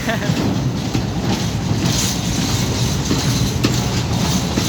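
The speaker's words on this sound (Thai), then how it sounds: "ขณะนี้ขบวนรถสินค้าที่ 726 กำลังจะออกจากสถานีรถไฟชุมทางบางซื่อแล้วนะครับ" Container freight train 726 pulls out of Bang Sue Junction, a loud continuous rumble and rolling roar of wheels and wagons close by, steady throughout with faint clanks.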